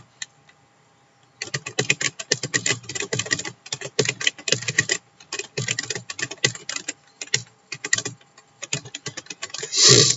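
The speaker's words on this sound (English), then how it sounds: "Now I'm going to write some content." Someone types on a computer keyboard at close range, producing quick irregular bursts of clicking keystrokes broken by short pauses, after a brief quiet start.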